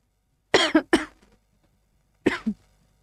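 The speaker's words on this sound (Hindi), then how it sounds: "फिर खांसी हो गई है" Two bursts of coughing close to the microphone, a quick double cough followed after a pause by another short pair, in otherwise quiet surroundings.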